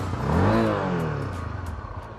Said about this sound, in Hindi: मैंने स्टार्ट किया, ये इसका एग्जॉस्ट नॉट है, साउंड है, काफ़ी स्मूथ है